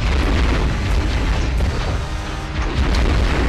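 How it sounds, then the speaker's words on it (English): A missile blast from the monster-fighting video game War of the Monsters, a loud, dense rumbling explosion that fills the whole stretch with sustained booming noise. "Screw this rock, I'm throwing a missile."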